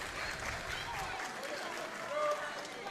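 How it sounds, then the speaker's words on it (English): A wrestling crowd at a women's wrestling match cheers on a wrestler, a steady broad roar of voices filling the arena, fairly loud and continuous with a brief swell near the end. "the crowd is definitely once again getting behind Maddie here, cheering her on"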